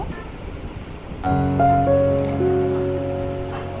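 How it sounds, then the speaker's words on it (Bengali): Polao rice fries in a pan with browned fried onions, making a steady hissing sizzle. Partway through, a sharp clunk is followed by a brief ringing tone over the frying. "এখন পোলার চালটাও আমি ভেজে নেব"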